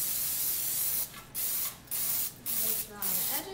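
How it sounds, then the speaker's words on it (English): Cooking spray hissing into a parchment-lined springform pan in several bursts, one long spray followed by three short spurts separated by brief pauses, close and loud. "So let's go ahead and just spray it down."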